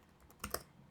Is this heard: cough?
no